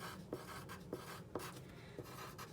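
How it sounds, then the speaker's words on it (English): Pen strokes writing words by hand on paper while decorating a butterfly craft, several short quiet scratches at a steady pace, close and alone. "I'm gonna just write down,"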